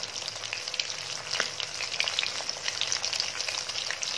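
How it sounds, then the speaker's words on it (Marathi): Prawns fry in hot oil for a Schezwan prawn dish, making a dense, continuous close sizzle with scattered sharp crackles and pops throughout. "प्रॉन्स तळताना खूप काळजी घ्यावी लागते, कारण कधी कधी हे फटकन फुटून उडतात"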